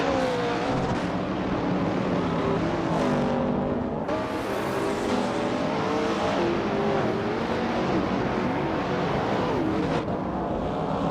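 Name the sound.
race cars racing in a video game, Lola T70 Mark 1 prototype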